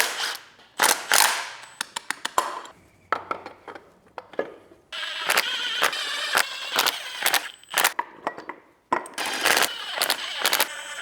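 A ratchet clicks in rapid bursts and longer runs while loosening an alternator bracket on a BMW F10 engine, close and sharp, with pauses and metallic handling between strokes.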